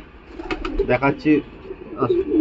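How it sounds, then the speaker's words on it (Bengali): A Suddi Chhapka pigeon coos in a few soft, rounded bursts, close by and moderately loud, with a person talking alongside. "দেখাচ্ছি হলো এটা সুদ্দি ছাপকা পায়রা"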